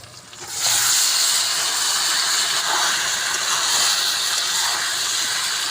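Chicken pieces hit hot oil in a pan for a Bengali chicken kosha with tomato and salt, and a loud, steady sizzle starts and then holds close and constant with no talk over it.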